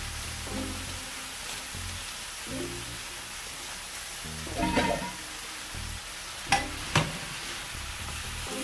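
Spinach is stirred into a hot pan for a breakfast egg burrito, making a soft continuous sizzle with faint rhythmic scraping, then two sharper utensil knocks against the pan near the end, with no talking.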